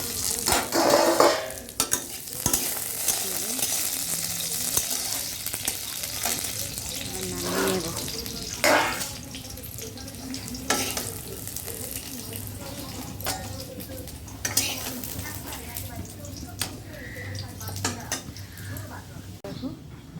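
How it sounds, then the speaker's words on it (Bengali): Potatoes fry in oil in a pan while a utensil scrapes and stirs them, giving a steady close sizzle broken by repeated clinks and scrapes, with no talk. "এবার আলু ভাজাটা আমি নামিয়ে নেব হালকা ভাজা হয়ে গেছে"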